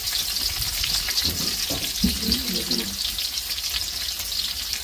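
Garlic, chili and onion fry in a pan with a steady, dense sizzle and hiss, and a brief stirring scrape comes through midway.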